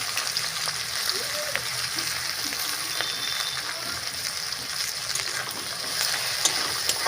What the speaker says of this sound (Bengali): এবার আমি কেটে রাখা পেঁয়াজটা দিয়ে দিলাম